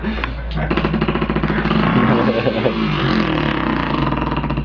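A voice beatboxes a dirt bike engine, producing a steady buzzing, rumbling motor imitation that stays loud and continuous throughout.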